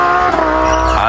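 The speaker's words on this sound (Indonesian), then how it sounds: "Mobil balap Tamiya teman-teman." Tamiya toy race car running with a high, steady electric motor whine, close and loud, a brief continuous burst.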